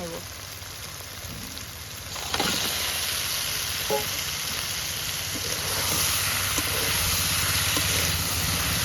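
Crab pieces and potato fry in oil with a steady rain-like sizzle, occasional stirring clinks, and the hiss swelling slightly midway.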